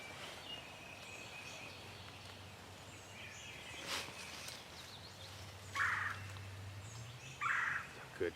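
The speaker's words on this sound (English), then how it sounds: "Good turkey, y'all." A wild turkey gobbles in the early morning woods, two loud rattling gobbles near the end with a softer one earlier, over a low steady background hum.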